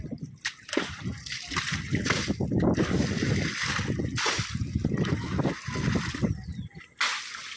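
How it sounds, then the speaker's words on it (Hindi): A motorbike is washed at a village river, the water splashing and sloshing against it in loud, close bursts with brief pauses between sprays. "तो गाइस पहले गाड़ी में पानी मारते हैं"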